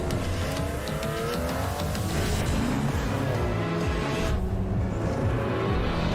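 A Porsche 963 race car engine roars loud and continuous at a live game showcase, with layered revving and passing sounds and no speech during the clip.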